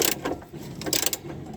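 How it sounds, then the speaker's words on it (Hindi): A ratchet wrench loosens a bolt on a car's front suspension, giving a few uneven bursts of clicking and metallic rasping close by, with no talk. "और अब ये लूज़ हो गया है तो हम लोग इसको रैचेट से भी ओपन कर सकेंगे।"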